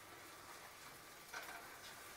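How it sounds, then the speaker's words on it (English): Teriyaki chicken pieces browning in a hot pan give off a soft, steady sizzle with faint crackles, heard alone at low level with no talking. "It's starting to sizzle up nice for me now."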